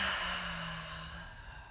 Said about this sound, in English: And a big exhale.